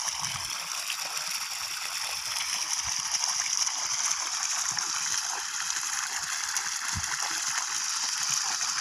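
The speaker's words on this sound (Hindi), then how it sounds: "उससे पहले पानी भर रहे हैं बर्तन में" Well water being poured into vessels in a village as the well is readied for cleaning, heard as a steady running, gushing flow with faint splashes, fairly even and unbroken throughout, with no talk.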